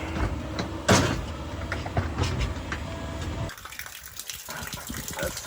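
Water gushing through a newly laid cabin water pipe, a loud rushing flow with splashy bursts that suddenly drops to a thinner trickle partway through.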